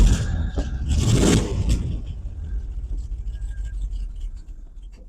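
A 1985 Chevrolet C-10 short-bed truck engine cranks with a scraping churn, catches, and settles into a low, rough rumbling run, heard up close.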